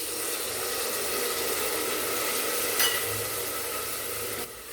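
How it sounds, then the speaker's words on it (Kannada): Tamarind juice, about a cup, poured into a hot pan while cooking rice bath, giving a steady, close sizzling hiss that holds evenly for several seconds with no talking. "ಇಲ್ಲಿ 1 ಕಪ್ಪಷ್ಟು ಹುಣಸೆ ರಸನ ನಾನು ಹಾಕೋತಾ ಇದ್ದೀನಿ."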